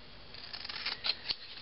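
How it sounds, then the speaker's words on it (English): Scissors snip through thin cardboard while shapes are cut out by hand, a quiet run of short crisp cuts and rustles ending in a sharper snip. "I'm just going to cut them out with a pair of scissors, since we're using"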